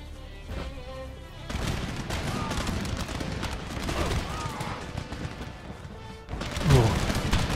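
Musket volleys crackle through a massed battle in Empire: Total War, with sustained rolling gunfire, crashing impacts and a sharp burst near the end, set against a dense battlefield din.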